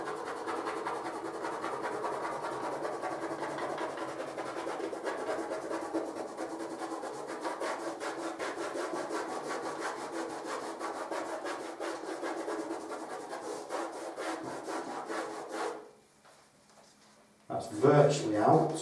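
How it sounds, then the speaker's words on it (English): Steady rubbing and scrubbing against a washable matt painted wall, a continuous close, even friction that runs for about fifteen seconds and then stops, followed by a short burst of handling noise. "The beauty with this one is you can scrub it a little bit harder."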